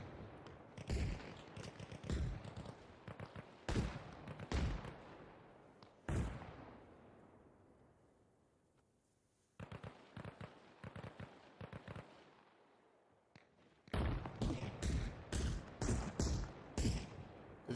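Repeated bursts of sharp gunfire crackle in the game Arma Reforger, some shots close and loud, others echoing off in the distance, with a quieter lull in the middle and no talking.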